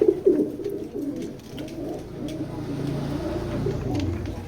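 Racing pigeons coo softly in a pigeon loft, a low murmuring that continues throughout. Steady background noise sits underneath.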